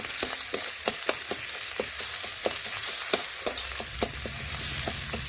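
Spice masala frying in oil in a pan, a continuous close sizzle punctuated by sharp spatula clicks and scrapes in an irregular rhythm.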